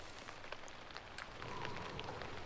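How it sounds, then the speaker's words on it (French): Rain falling in the video game Sniper Ghost Warrior 3: a steady, quiet hiss of drops with scattered light patter, continuous throughout and with no voices. "Oh merde, la pluie."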